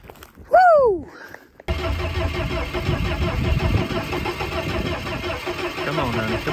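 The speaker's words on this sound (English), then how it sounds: "get your dump truck fired up" A farm dump truck's diesel engine cranks briefly, then catches at about 1.7 seconds and settles into a loud, steady rumbling idle close by. A voice sounds just before the start.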